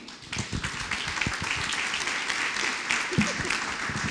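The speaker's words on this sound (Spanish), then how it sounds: "un fuerte aplauso, por favor" An audience applauds at a school environmental-project workshop, steady clapping running throughout with a few sharper individual claps up close and some voices mixed in.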